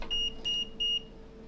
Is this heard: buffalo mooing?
no